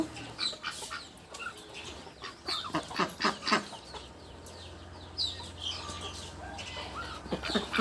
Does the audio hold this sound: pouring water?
no